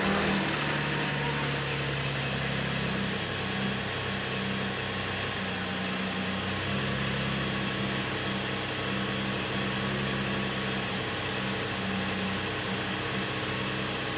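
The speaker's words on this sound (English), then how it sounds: "I've got the car on, got the AC running" A Cadillac CTS idles with the air conditioning switched on, a steady close engine hum with a continuous low vibration and no voices.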